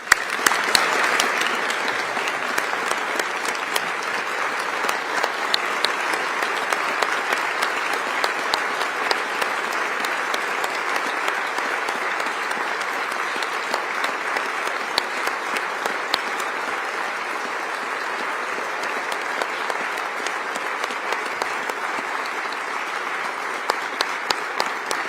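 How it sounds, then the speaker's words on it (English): Sustained applause from a large audience at a State of the State address in Utah honoring the Borgstrom family, a dense wash of many hands clapping steadily for about 25 seconds with no talk over it. "I would ask that they please stand and you give them a round of applause."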